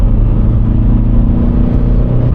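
A BMW with broken traction drives along, its engine a steady low drone and rumble that holds evenly and close throughout, with no voices over it.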